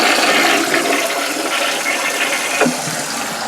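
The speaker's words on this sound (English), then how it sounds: "Makes for a nice easy flush" A newly installed toilet flushes loudly and close, a continuous rushing swirl of water draining for the whole stretch with no voices.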